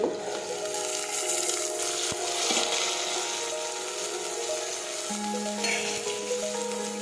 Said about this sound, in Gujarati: હવે આપણે સાતળી લઈશું હવે આપણે તોળી નાખી છીએ